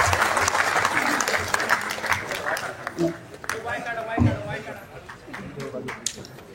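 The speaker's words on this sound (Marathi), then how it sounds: "जोरदार टाळ्या वाजून आपण साहेबांना मनापासून धन्यवाद देऊया." An audience applauds at a book launch event, with a dense burst of clapping at the start that thins into scattered claps. Voices of the crowd and a speaker are heard mixed in.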